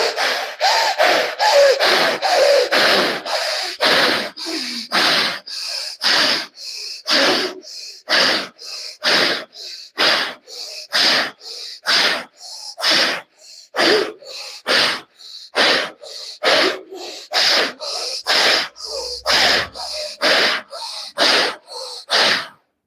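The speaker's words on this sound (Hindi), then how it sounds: "सांस लेना और छोड़ना आरी की तरह से।" Rapid, forceful sawing-style breaths during pranayama yoga practice, about thirty-five sharp in-and-out bursts in a steady quick rhythm, close and loud with no talking.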